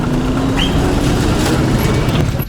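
A busy street in Iran with passing buses fills the air with a loud, continuous roar of engines and road noise, close and unbroken throughout.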